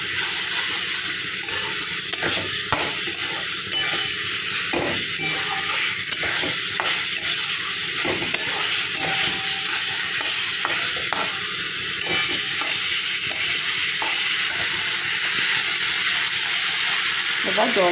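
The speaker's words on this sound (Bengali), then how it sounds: "দেখেছো মশলাটা ভালো করে টানিয়ে নিয়ে কষিয়ে নিয়েছি" Masala spice paste, cooked down until dry, fries and is stirred in a pan for a Bengali fish curry with vegetables, giving a steady close sizzle with scraping spatula strokes throughout, while a voice speaks now and then over it.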